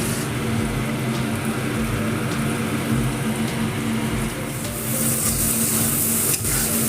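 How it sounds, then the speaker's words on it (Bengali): Steady, loud sizzling of chicken frying in a pan with spice paste, with constant crackle and occasional stirring scrapes throughout. "এবার আমি এর মধ্যে মাংসটা দিয়ে দেবো"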